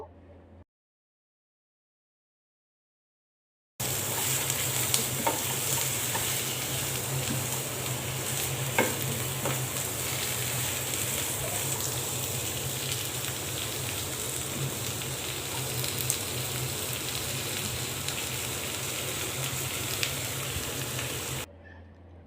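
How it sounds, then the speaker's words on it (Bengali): Pointed gourd (potol) pieces seasoned with turmeric and salt fry in oil over high heat, a steady dense sizzle running unbroken for about eighteen seconds after a brief silence, with occasional clicks of stirring. "পটলগুলো পাঁচ থেকে ছয় মিনিট হাই হিটে চুলার জালটা হাই হিটে রেখে ভেজে নেবো"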